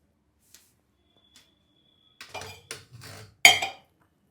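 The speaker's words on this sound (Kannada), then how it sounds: "ಇವಾಗ ಕುಕ್ಕರ್ದ ಮುಚ್ಚಳ ಮುಚ್ಚಿ ಒಂದು 3 ಕೂಗಿಸ್ಬೇಕು." A few faint taps, then a short run of metallic clatters and a final sharp clank as the lid of a pressure cooker holding spinach dal is closed in a home kitchen.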